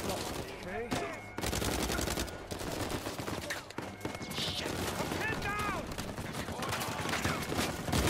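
Gunfire in the video game Uncharted 4, with rapid bursts and fusillades running continuously through a dense battle mix, alongside voices and other game sounds.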